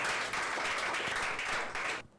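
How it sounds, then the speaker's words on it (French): An audience applauding at a French reading competition on stage, a dense roar of clapping hands that holds steady for about two seconds and then cuts off. "sous vos applaudissements"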